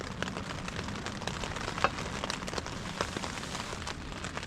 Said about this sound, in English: Just raining a lot.